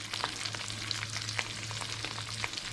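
Raw prawns, small ones, sizzling in a hot pan for Thai pineapple fried rice, a steady close frying crackle with scattered pops and a low electrical hum beneath, no talking.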